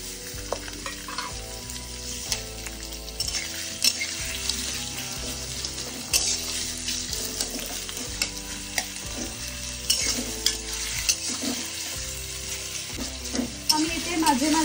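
Garlic and ginger fry and are stirred in hot oil, a steady close sizzle with repeated scraping strokes of a spoon against the pan throughout, with no voices.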